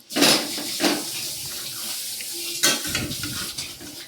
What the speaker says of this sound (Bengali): হাতটা ধুয়ে দিই